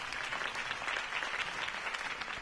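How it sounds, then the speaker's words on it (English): Steady, dense clapping from a large crowd, sustained and fairly loud throughout with no pauses. "could have heard that applause"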